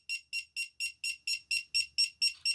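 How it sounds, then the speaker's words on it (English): A TAQTracker Bluetooth tracker tucked in a tactical wallet emits a steady run of about eleven sharp, high electronic beeps, evenly spaced and alone in near silence. "It beeps and blinks until you find it."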